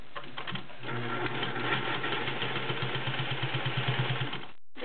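A Singer 500A Slant-O-Matic domestic sewing machine stitches through six layers of denim, its motor whirring steadily with a rapid, even needle clatter that runs close and loud for several seconds before stopping abruptly.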